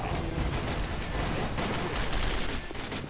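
Dense, continuous gunfire from the online shooter Sudden Attack during a ranked match, rapid shots blending into a loud sustained barrage with no pauses.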